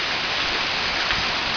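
Steady rain pours down during a Texas storm, a dense, even hiss that stays loud and unbroken from start to finish, with no voices over it.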